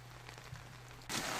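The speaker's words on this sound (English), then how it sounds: "But how did you make this rain look so real?" Rain falls in the Monsters Inc. video game as a steady hiss under a low hum. It jumps to a louder, brighter downpour in the final moments.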